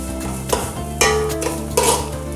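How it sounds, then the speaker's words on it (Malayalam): Grated coconut masala for varutharacha chicken curry being stirred in a pan over medium flame, with three distinct scraping strokes over a continuous soft sizzle. "നന്നായി ഒന്ന് ഇളക്കി കൊടുക്കാം."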